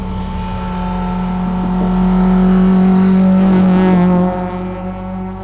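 A Honda Civic EK9 engine holds a steady, buzzing idle-to-midrange note, then revs up and swells louder before easing off, heard up close and alone with no talk.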